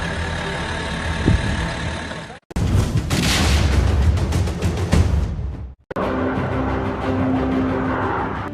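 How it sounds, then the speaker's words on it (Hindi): Heavy, booming wartime explosions near an airport in Kyiv, with rumbling low-end and crackling debris, loud and close, in several abrupt bursts separated by brief silences. "राजधानी कीव में एयरपोर्ट के पास जोरदार धमाके का असर आसपास के इलाकों पर भी।"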